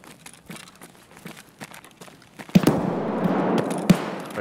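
Sharp gunshot cracks from the game Escape From Tarkov, scattered bursts that grow denser and louder halfway through over a rumbling background.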